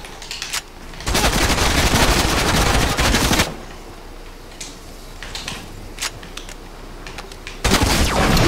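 Fortnite gunfire, long rapid automatic bursts at close range, two sustained volleys of fire separated by quieter moments with a few isolated single shots between them.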